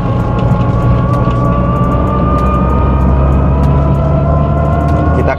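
A car drives over a road in PIK 1 while its suspension is tested, giving a steady, close engine drone and road rumble that holds unbroken throughout.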